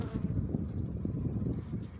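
Honeybees hum in a dense, continuous buzz at close range by their hive, a low droning swarm sound with slight flutters in intensity.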